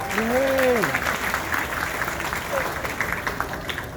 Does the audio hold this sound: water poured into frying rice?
no